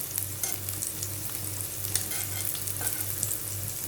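Pieces of chicken pahadi tikka fry in a pan, a steady close sizzle and crackle of hot oil running continuously with a few stirring scrapes, no voices.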